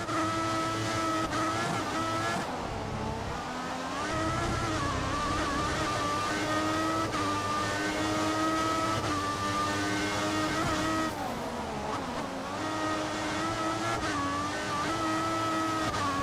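A Sauber C33 Formula One car in the F1 2014 racing game, its engine droning steadily at high revs with gear-shift dips and pitch sweeps, continuous and close throughout.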